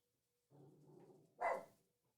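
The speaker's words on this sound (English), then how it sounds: "You can hear my dumbass dog barking" Dolly the dog lets out a low drawn-out grumbling whine, then a single sharp bark close by, followed by quiet.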